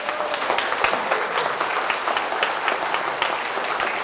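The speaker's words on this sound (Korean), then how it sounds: "CBS한테 박수 한번 보내줘야지" An audience in a church service claps steadily, a dense, sustained wash of many hands at moderate loudness, with no speech over it.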